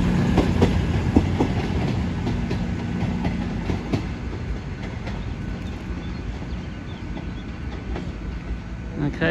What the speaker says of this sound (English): Cross country service to Plymouth, about to go out now from Derby.